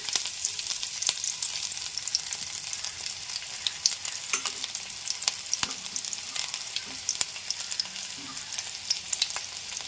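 Garlic frying in oil in a pan for ajwain rice, a steady crackling sizzle with frequent small pops and light stirring, close and even throughout.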